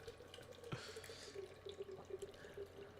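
Beer poured into a cup: a soft, steady trickle of liquid with light splashing and bubbling, quiet and close, after a single sharp knock near the start.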